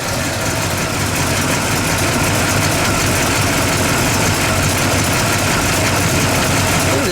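A 1971 Buick Riviera GS 455 cubic-inch V8 idles steadily with a deep, even rumble and a broad hiss on top, continuous and close throughout.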